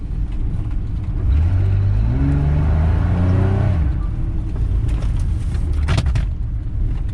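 A work truck's remanufactured 4.3 engine revving hard, a loud rising then falling roar that climbs through the gears, close by, before settling back into a rumbling idle.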